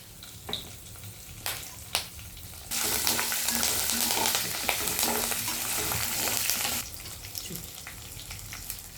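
Dried red chillies, green chillies and curry leaves hit hot oil with a loud burst of frying sizzle that runs steadily for about four seconds, preceded and followed by quieter clatters and a low background hum.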